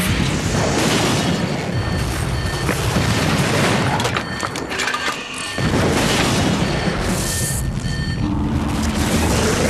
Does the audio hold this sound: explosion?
yes